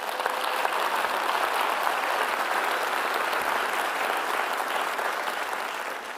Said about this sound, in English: A round of applause, please, to welcome everyone.